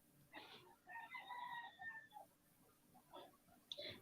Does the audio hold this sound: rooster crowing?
yes